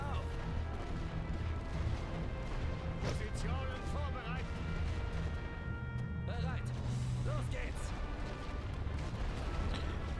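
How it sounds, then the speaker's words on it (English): Mortar fire in The Great War Western Front video game lands as a series of booming blasts and crashes over a constant low battle rumble. A person talks steadily over the explosions. "Ouch, them mortars do so much freaking damage."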